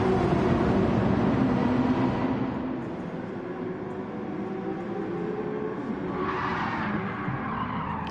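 A race car in Gran Turismo 7 slides sideways at Trial Mountain, a loud engine drone and tyre roar that eases off midway, then a brief rising screech of skidding rubber.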